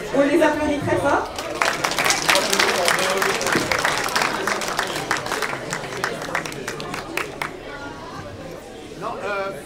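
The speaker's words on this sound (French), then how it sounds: "on les applaudit très fort" At a festival ceremony, an audience breaks into loud applause and cheering that swells, holds, then slowly fades, with a voice talking over it at the start and again at the end.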